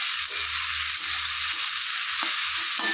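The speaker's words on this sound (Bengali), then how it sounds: "এবার ঢাকনাটা খুলে নেড়ে চেড়ে দিচ্ছি।" Greens left in a pan after the lid comes off and their water has cooked away are stirred over steady sizzling frying, with soft spatula scrapes and low clatter throughout.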